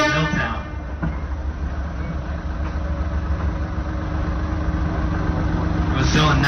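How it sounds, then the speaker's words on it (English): A 1912 Plymouth locomotive, number 5, formerly used at a sand mine in Milltown, New Jersey, runs on the Pine Creek Railroad at Allaire State Park, giving a steady low engine drone and rumble throughout with a voice talking over it. "This locomotive right here, number 5, our operating Plymouth, originally operated in Milltown, New Jersey, in a sand mine in Milltown."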